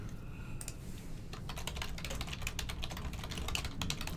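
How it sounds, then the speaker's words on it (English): Rapid, uneven clicking of keys on a computer keyboard, close by, running continuously with brief pauses over a low background hum. "Sorry if you can hear my typing."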